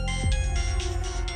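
Phone ringtone in a home setting, a loud, continuous electronic melody with pulsing tones filling the short moment, with no talk over it.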